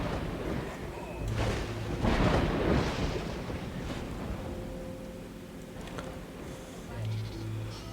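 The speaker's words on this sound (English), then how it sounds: "Storm is coming in." Thunder in the Stone Age survival game Dawn of Man, with a loud rumbling roll building early and fading, as a storm arrives over a settlement.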